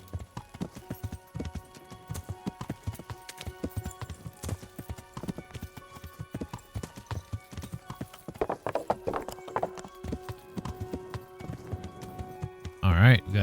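A horse gallops in Kingdom Come: Deliverance, its hooves clip-clopping in a fast, steady rhythm, with a short whinny near the end.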